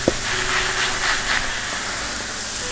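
A dash of vermouth hits a hot pan of wild mushrooms and vegetables cooking for fettuccine ai funghi. A sharp splash is followed by a continuous loud, broadband hiss and sizzle.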